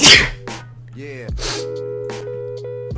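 A sharp, loud sneeze bursts out right at the start, followed by a quieter breathy exhale and brief talk over a steady low hum.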